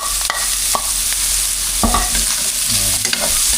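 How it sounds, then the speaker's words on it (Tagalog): Meat sautéing in cooking oil in a pan, a steady close sizzle broken by several sharp scrapes and knocks of a spatula against the pan. "Gisa-gisa muna natin yung ating karne."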